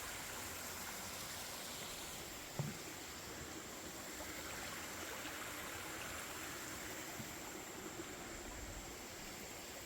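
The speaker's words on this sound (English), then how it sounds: "go check out the Cumberland River" The Cumberland River flows steadily in Kentucky near a footbridge, a broad, even rushing wash that holds constant throughout, with one brief knock partway through.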